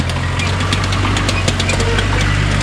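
A vehicle engine labors loudly at close range while crawling over rough mountain terrain in the Carpathians, a steady low droning hum with knocking and rattling clatter throughout.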